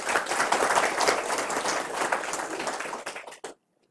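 Applause breaks out from a crowd at a talk on cow's milk and cow protection, dense steady clapping for about three seconds before it cuts off abruptly into silence.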